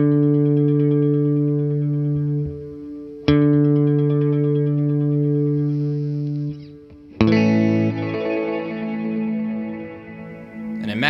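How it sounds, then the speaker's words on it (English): Electric guitar through an Encounter ambient delay and reverb pedal gives sustained chords that bloom into shimmering, diffuse trails, with two sharp new strums and no voice. "as we cycle through this diffusion, you start hearing more of that kind of sparkle effect"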